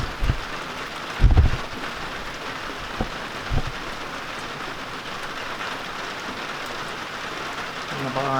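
Steady rain falls as an even hiss from a porch, with a few low thumps and knocks over it and faint murmurs in the background.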